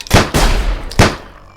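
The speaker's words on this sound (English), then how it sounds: "Oh, it's too much shooting, this is." Two loud gunshots in the stealth game Sir, You Are Being Hunted, one near the start and another about a second later, each with a sharp crack and a booming tail that fades out.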